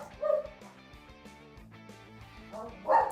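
A pet dog named Leo at home lets out short barks and whimpers, a yelp early and another near the end, close and moderately loud amid quiet background.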